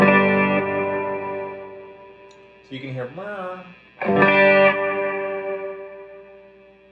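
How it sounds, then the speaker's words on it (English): Electric guitar through a retro spring reverb pedal with light modulation on the tail: sustained chords ringing out with a wobbling, splashy reverb wash, a short pause, then another strummed chord decaying slowly, with a voice briefly speaking over it. "retro spring reverb, but with a little bit of a modern touch with a little modulation on the tail"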